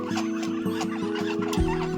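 Close, continuous honking and chattering calls from a group of ducks, overlapping in a steady rhythm with little pause.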